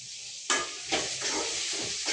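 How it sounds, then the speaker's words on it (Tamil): Chopped onions, green chilies, fennel, mustard seeds and curry leaves sautéing in a pan, a bright steady sizzle broken by several bursts of stirring scrapes, close and clear with no talk. "2 வெங்காயம் 2 பச்சை மிளகாய் போட்டு சோம்பு கடுகு போட்டு தாளித்து கருவேப்பிலை போட்டு நல்லா வதக்கி"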